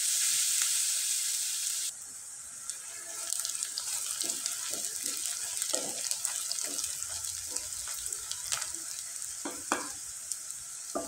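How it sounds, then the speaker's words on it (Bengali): Chopped onion and green chili fry in hot oil in a pan, giving a steady close sizzle with scattered stirring scrapes and clicks, slightly louder before briefly settling. "এরপরে এখানে পেঁয়াজ কুচি, মরিচ কুচি দিয়ে খুব ভালোভাবে নেড়ে চেড়ে নিব আর একটু লাল লাল করে ভেজে নিব"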